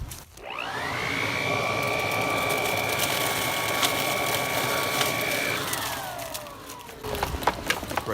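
A Black & Decker 3-in-1 leaf vacuum runs with a loud, steady whining roar as it sucks up leaves. Near the end the pitch sags and falls away as suction drops, leaving rustling and clattering.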